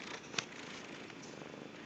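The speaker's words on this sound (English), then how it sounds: "Listen to Opie purr. Can you hear him?" Steady low purring from a cat at an animal refuge, close and quiet, with one brief louder sound early on and no talk.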